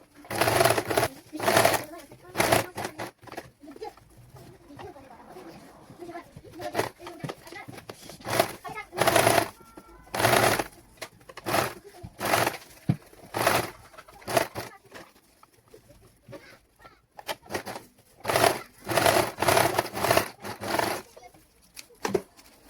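An electric sewing machine stitches a baby langot, loud close bursts of rapid whirring stitching separated by pauses, with someone talking in between.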